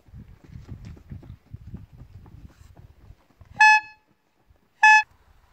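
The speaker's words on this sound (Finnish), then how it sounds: "jossa oli mukana tällainen torvi." Two short, loud toots of a Suzuki 50 moped horn, spaced about a second apart, following low rumbling and shuffling noise.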